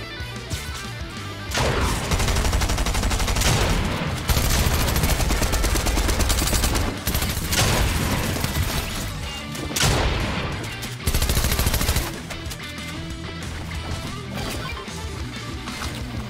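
Rapid submachine gun fire crackles in Fortnite Chapter 3, loud sustained bursts of automatic shots broken by short pauses, with clattering game effects between volleys.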